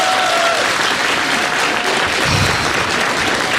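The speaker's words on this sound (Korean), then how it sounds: "다시 한번 박수 부탁드리겠습니다." A studio audience at a Korean talk show about a parliamentary hearing applauds in a loud, continuous wash of clapping that lasts the whole stretch.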